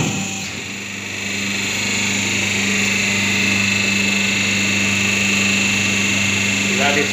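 Hydraulic paper plate making machine pressing square paper plates, a loud steady mechanical hum with constant tonal drone throughout, close and continuous.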